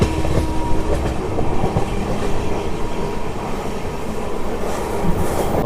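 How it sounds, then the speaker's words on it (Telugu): Karimnagar–Tirupati weekly superfast express with LHB coaches pulling into Srikalahasti station, a steady heavy rumble of wheels on rails with faint clickety-clack throughout, close and fairly loud, no voices. "మన ట్రైన్ వచ్చేసి కాళహస్తికి అయితే వచ్చేసింది."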